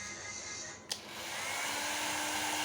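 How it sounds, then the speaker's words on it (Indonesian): An electric blower runs as a load on a 2000 W low-frequency inverter, drawing over 1400 watts. It gives a steady, broadband airy roar after a brief click partway through, and nobody speaks. "akan saya bebani dengan satu buah blower"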